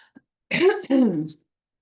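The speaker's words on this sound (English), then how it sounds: "let me clear my throat." A person clears their throat up close in two voiced, gravelly pushes, preceded by a faint click and followed by silence.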